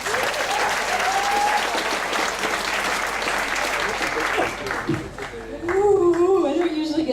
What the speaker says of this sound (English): please give a big applause to Mona